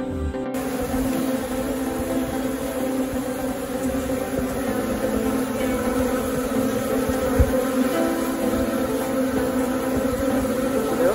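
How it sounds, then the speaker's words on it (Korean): Honeybees at a hive in Gangwon Province, Korea, swarming a queen-rearing frame, produce a loud, steady, close buzzing drone that continues without a break. "이충털에 지금 이충을 해 놓으니까 지금 벌들이 확 붙어서 작업을 하지 않습니까?"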